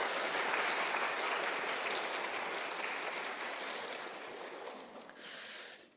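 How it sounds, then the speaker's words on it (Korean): Church congregation applauding together in a steady, dense round of clapping that fills the room, gradually tapering toward the end with a brief final swell. "한번 박수 한번 해드리면 좋겠어요"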